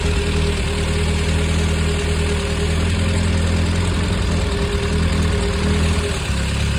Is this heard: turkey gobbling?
no